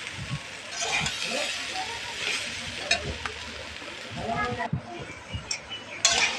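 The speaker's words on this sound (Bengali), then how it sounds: "এখন দিয়ে ভালো মতন এটাকে নাড়বো আমি" Dal with turmeric and salt fries in a pan and is stirred, a steady sizzle broken by spoon scrapes and light clinks close by, with a voice speaking now and then.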